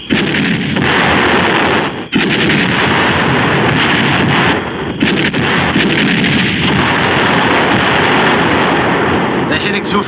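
Loud, sustained artillery and gunfire in a 1951 war film battle scene, with heavy booms and dense crackling shots running almost continuously, broken by only brief pauses.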